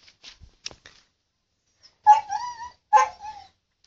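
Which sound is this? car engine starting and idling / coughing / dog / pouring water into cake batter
dog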